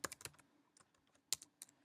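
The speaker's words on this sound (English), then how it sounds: "I'll just type in my information" Quick bursts of keystrokes on a computer keyboard, close and fairly quiet, in irregular clusters with short pauses between them.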